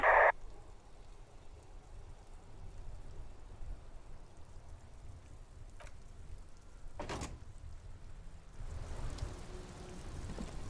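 Rain falls in the video game Disco Elysium during a traffic jam, a soft steady patter throughout, broken by a brief door-like thump and a swell of heavier noise near the end.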